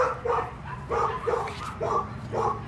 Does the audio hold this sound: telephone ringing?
no